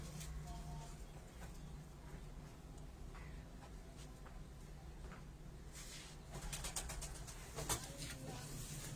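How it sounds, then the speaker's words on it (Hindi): Pigeons kept on a rooftop loft give faint, scattered coos and rustles, low in the mix beneath steady background noise, with a few louder bursts near the end. "ये देखें, ये कबूतर ये हैं जी।"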